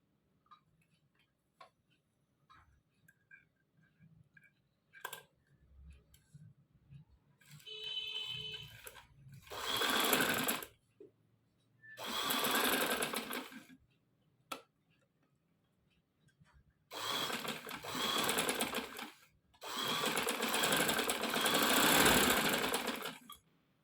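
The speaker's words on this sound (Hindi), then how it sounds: "अब इस साइड से भी हम एक स्टिच लगाएंगे।" A sewing machine stitches shalwar fabric, joining two colours of cloth with a straight seam. It runs in four loud, steady bursts of a few seconds each, separated by pauses and faint handling clicks.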